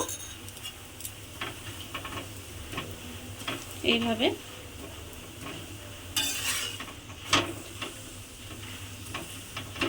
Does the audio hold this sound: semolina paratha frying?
yes